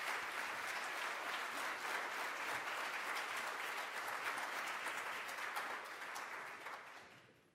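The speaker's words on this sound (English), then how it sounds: "Let's have a round of applause for our presenters." Steady, dense applause from a conference audience after a healthcare partnerships session, continuous and fairly distant, holding level for most of the stretch before tapering off at the end.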